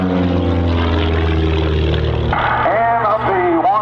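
Blue Angels jets at an airshow, flying in at close to 400 mph to set up opposing loops: a loud, sustained engine roar that stays steady, then shifts in pitch as they pass, with a commentator's voice over the noise.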